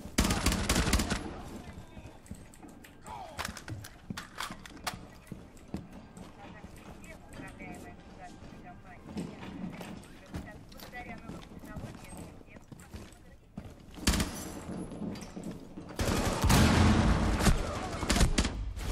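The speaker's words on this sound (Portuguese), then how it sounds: "Eu não tô vendo de onde tá dando tiro." Bursts of rapid gunfire crackle through a Rainbow Six Siege game soundtrack, some close and loud, others distant, with people talking over the action.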